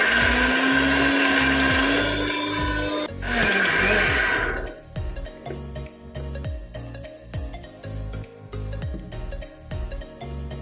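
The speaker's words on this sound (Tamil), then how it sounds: "இப்போது சேர்த்துருக்க எல்லா பொருளையும் நல்லா அரைச்சி எடுத்துக்க போகிறோம்." A mixer grinder whirs loudly as it grinds tomato, curd and masala for chicken biryani, running steadily for about four seconds before winding down and stopping, followed by light clattering of the jar and lid.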